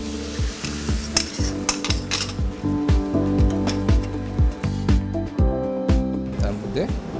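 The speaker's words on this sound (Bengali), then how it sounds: "এখানে ডিমটা ঢেলে দিলাম প্যানে।" Beaten whole eggs cook in a pan, with repeated metallic scraping and tapping of a utensil against the pan over a soft sizzle, while a person talks throughout.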